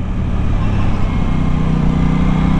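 An Aprilia RS 660 sport motorcycle's engine runs loud and steady, with a rev blip on a downshift into second gear while riding.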